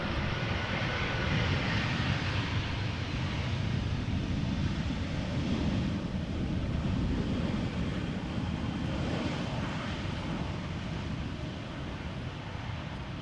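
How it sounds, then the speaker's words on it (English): An EasyJet airliner in from Manchester arrives at Amsterdam Schiphol, its jet engines a broad, distant rumbling roar mixed with wind buffeting on the microphone, steady and fairly faint throughout. "EasyJet arriving from Manchester"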